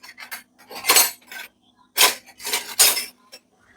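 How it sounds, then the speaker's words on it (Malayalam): A spoon clinks and rattles against a metal pot while semiya payasam is made with ghee, a few sharp bursts of clatter separated by short pauses, close and fairly loud with no talk. "സ്പൂൺ എടുക്കാമേ, അല്ലാതെ പോകുന്നില്ല."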